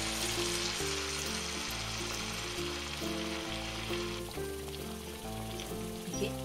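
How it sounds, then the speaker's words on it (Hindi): Sabudana vadas deep frying in hot oil bubble and sizzle loudly and continuously, close by, over a looping instrumental music bed with no voices. "तेल हमारा गर्म हो चुका है, एक एक करके सारे वड़ों को हम तेल के अंदर डालेंगे।"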